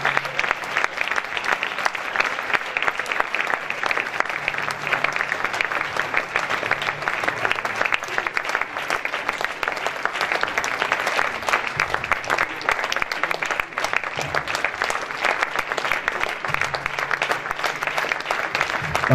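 A church congregation applauds steadily and loudly, a dense, sustained clapping crowd filling the room, with faint voices mixed in underneath.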